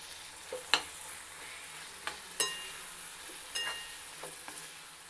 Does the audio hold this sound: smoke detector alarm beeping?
no